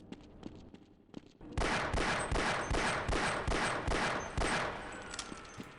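Rapid gunfire from the video game Half-Life, shooting at enemies: a loud, steady burst of repeated shots firing in a quick regular rhythm for several seconds, up close and alone without talk.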